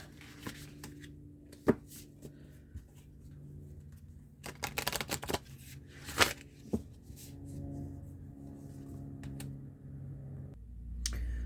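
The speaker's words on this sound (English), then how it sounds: "I went ahead and finished shuffling for your oracle cards." Oracle cards are shuffled by hand in quick riffling bursts, with soft taps and snaps between them in a quiet room.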